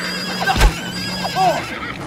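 A horse in the survival video game INCUR Survival lets out a short, close neigh with a rising-and-falling whinny, alongside a few hoof clops over a quiet background.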